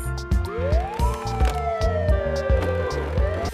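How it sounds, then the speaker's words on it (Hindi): A loud wailing siren sweeps up and down over a steady electronic beeping pattern, close and continuous like a toy emergency vehicle. "ये देखो बच्चों, टॉय एम्बुलेंस।"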